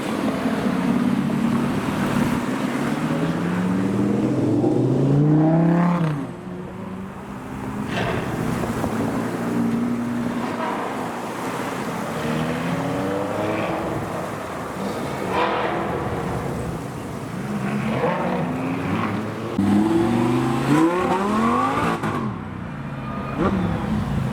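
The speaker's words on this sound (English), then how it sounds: "a bunch of Audi R8s have just started up to leave" Several Audi R8 sports cars start up and pull away at an outdoor car show. Rising and falling engine revs sweep past under heavy gusting wind noise on the microphone.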